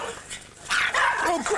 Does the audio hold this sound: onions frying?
no